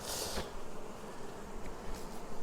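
Honeybees buzz at an apiary hive in early September, a dense close droning hum with a louder swell as one passes near the microphone, no voices.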